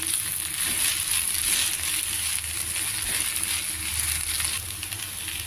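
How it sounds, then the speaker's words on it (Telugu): Oil sizzles and fries steadily in a pan while gongura chutney is cooked, a close, continuous crackling hiss with a constant hum beneath and no pauses. "నేను పైన కూడా కొద్దిగా ఇంకో రెండు స్పూన్లు నూనె వేసాను కదా బాగా దగ్గరగా వేగుతోంది"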